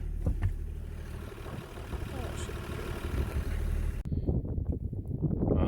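Tractor engine idling with a low steady throb under background noise and a brief voice, the tone continuing evenly through the whole stretch.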